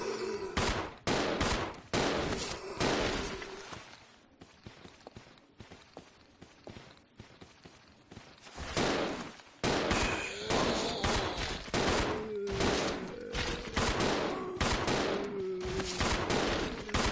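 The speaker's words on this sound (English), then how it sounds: "We'll kill these zombies with the handgun." Handgun fire at zombies in the video game Resident Evil 0: a run of sharp, loud shots in irregular bursts, with a quieter gap of scattered clicks and footsteps midway.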